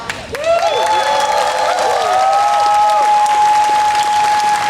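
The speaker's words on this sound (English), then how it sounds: "One more round of applause for Kelly Frazier." A rally crowd at an anti-hate gathering after a deadly shooting applauds and cheers steadily, a dense wash of clapping with raised voices and whistles carrying over it throughout.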